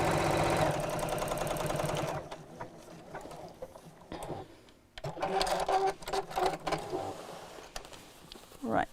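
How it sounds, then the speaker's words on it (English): A sewing machine stitches over the opening in a cross-body bag's lining, opening with a loud, rapid mechanical whirr for about two seconds, then quieter intermittent clicks and handling sounds. "then sew over the opening"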